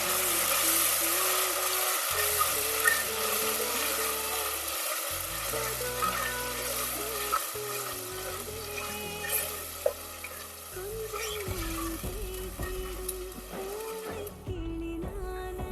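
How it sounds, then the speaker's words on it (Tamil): Green masala sautés in oil for Naati-style chicken donne biryani, with a continuous loud sizzle and frequent scraping stirs and small clatters throughout. "இது ஒரு 2 நிமிஷம் எண்ணெயிலே நல்லா வதங்கட்டும்"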